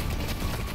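Rapid gunfire from the video game Deadlock crackles in a dense, continuous burst, loud and close, lasting under a second.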